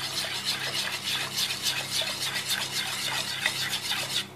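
Cheese is whisked into a whole-milk sauce in a pot, giving a steady, close scraping and swishing with a rhythmic pulse about twice a second and no talking.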